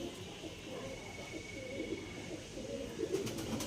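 Pigeons cooing in a loft, soft low murmuring coos rising and falling over a steady background hum, fairly faint and continuous.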